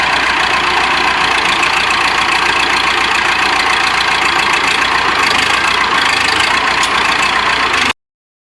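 A backhoe engine runs at a steady, loud, close-up idle with a rough knocking rattle, holding constant until it cuts off abruptly near the end.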